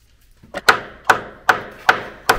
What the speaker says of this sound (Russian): Так ударь по нему молотком и вытащи сетку.